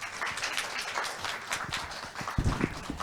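Audience clapping at a Korean forum in welcome of an award-winning presenter, a steady moderate patter of many hands throughout with a few louder claps near the end.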